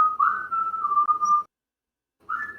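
A person whistles a song during a Kids on Bikes tabletop game session: a clear, sustained melodic phrase, a brief silent pause, then the whistled tune resumes.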